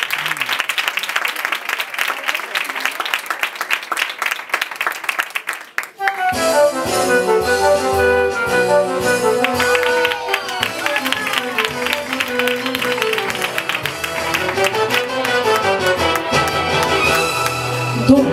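Theatre audience applause comes first, then gives way to a loud instrumental introduction for a song at a live show, with dense melodic accompaniment continuing to the end.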